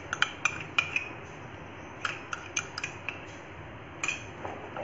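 A spoon stirs milk powder burfi mixture with added ghee in a kadhai, giving scattered sharp metallic clinks and taps against the pan at an uneven pace, close and fairly quiet.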